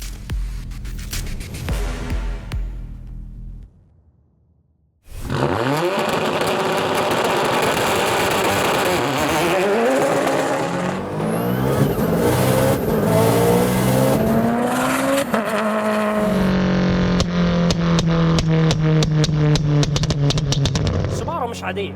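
A fully modified, street-legal 875 hp Subaru STI with a sequential gearbox revs hard and close, its pitch climbing and falling in repeated loud sweeps after a short lull, with voices faintly under it.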